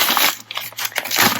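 Paper and plastic crinkle and tear in quick bursts, close by, as packaging is pulled open by hand.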